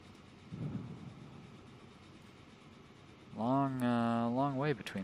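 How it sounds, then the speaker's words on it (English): A train runs along the track in the railway video game Transport Fever, a faint rolling hum followed by a louder whistle-like tone near the end, with a voice talking over it. "this train is entering into a very long straightaway"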